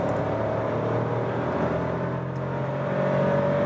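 A turbocharged VW Polo R-Line engine accelerates steadily in third gear from about 70 to 100, a continuous close droning hum with rising whir and no talk.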